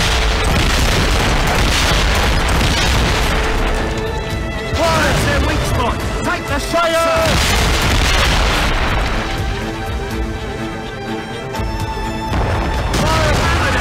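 Ship cannons fire broadsides in a naval battle in Assassin's Creed Rogue, with dense, continuous loud booms and crashes layered over shouting crew voices and constant battle din.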